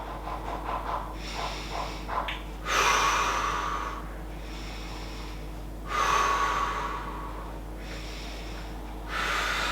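A woman exhales during a dumbbell chest press while lying on the floor. Several forceful breaths are heard up close at a slow, regular pace, with quieter breathing between them and no talking.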